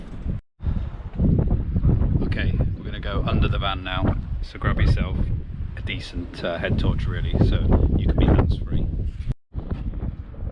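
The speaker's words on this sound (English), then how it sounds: "have to excuse the wind, it's windy under here" Wind gusting beneath an Elddis motorhome, buffeting the microphone in rough low rumbles while someone talks almost continuously over it, with a couple of brief dropouts.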